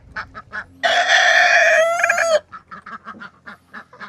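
A goose lets out one loud, drawn-out honking call up close, with short clucking bird calls repeating before and after it.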